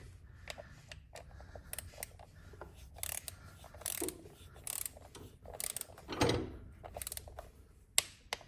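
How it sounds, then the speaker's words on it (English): Torque wrench tightening bolts on a Harley-Davidson Road Glide clutch derby cover, quiet ratcheting and metallic mechanism clicks scattered irregularly with a few sharper single clicks, close up and without talk. "Let's take our torque wrench. All right, 1 click, that's it."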